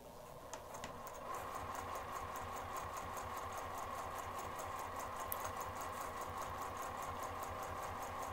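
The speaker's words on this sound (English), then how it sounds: "put that zipper foot back on your sewing machine and we're gonna start sewing" A sewing machine with a zipper foot stitches a bag, running steadily with a fast, even mechanical clatter after a brief quieter start, close by and continuous.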